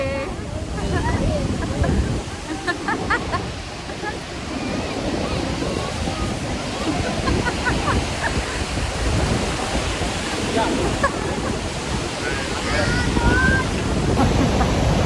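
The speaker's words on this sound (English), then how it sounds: "Iguaçu Falls, baby." Iguaçu Falls thunders as a loud, continuous roar of water with wind buffeting the microphone, and voices talk over the rushing spray throughout.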